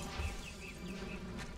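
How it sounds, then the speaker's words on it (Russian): Wasps buzz in the action role-playing game Titan Quest, a faint, steady insect drone with thin wavering whines drifting in and out over low background sound, with no voices. "А, это эти осы летают."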